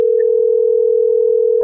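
A steady, loud telephone dial tone holds one constant pitch for well over a second while placing a call, then cuts off abruptly.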